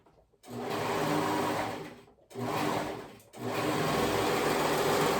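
A sewing machine runs a seam on a one-shoulder bubble romper in three bursts: a short start, a steady whir for about two seconds, a brief pause, then two more close, even runs with sharp stops between.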